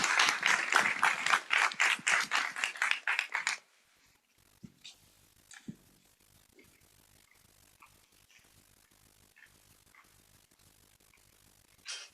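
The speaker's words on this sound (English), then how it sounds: "So let's give them all a round of applause." Applause from an audience welcoming a student project team onto the stage at a spring 2025 final project showcase: dense clapping for about three and a half seconds that stops abruptly, followed by quiet room noise with a few scattered knocks.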